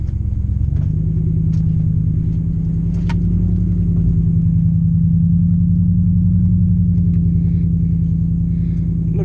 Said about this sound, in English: We're going to see if we can get out of this within just two-wheel drive.